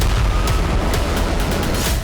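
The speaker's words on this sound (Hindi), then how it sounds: "धमाकों के शोर से दहशत है।" Dense, continuous rumble of blasts and explosions in Israel during a rocket and air attack, with repeated sharp bursts cutting through a loud, steady roar of booming and crackling and no voices.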